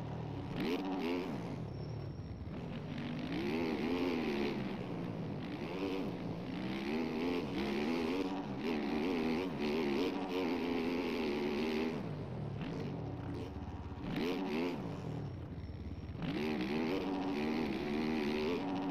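Motorcycle engines in a racing video game whine continuously, their pitch climbing and dropping as the throttle opens and shuts, with several bikes buzzing close by throughout.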